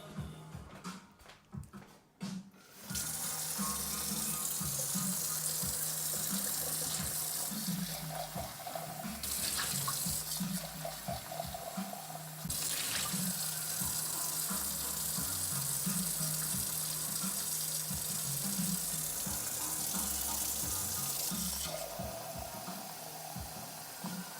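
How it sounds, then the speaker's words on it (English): A tap runs steadily to refill water, a continuous splashing gush into a container that holds at a fairly even level for most of the stretch after a brief quieter start. "So I was gonna refill the water."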